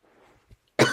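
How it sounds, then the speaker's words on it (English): Faint rustling gives way to one sharp, loud cough, close to the listener, right at the end. "Very sorry about the coughing."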